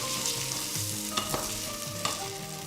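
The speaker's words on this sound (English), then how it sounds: "Just give it a stir. So all the flavors go inside it, inside our rice." Rice toasts in a pan with a continuous light sizzle while a spoon stirs it, giving a few distinct scraping clicks and rattles up close.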